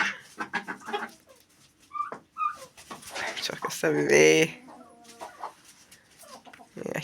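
Hens clucking in a coop with a new rooster, their short calls scattered among several people talking in Azerbaijani, with a louder burst of squawking partway through.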